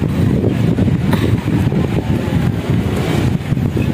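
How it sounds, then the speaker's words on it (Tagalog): Steady, loud wind buffets the microphone on a steep hillside climb, a continuous low rumbling roar with gusty surges throughout and no talking. "ang sarap ng hangin"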